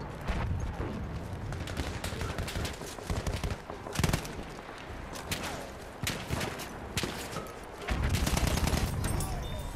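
BAR rifle gunfire in Battlefield 1, the telescopic variant, with sharp repeated shots and short bursts cracking loudly over a busy battlefield din, with no talk over it.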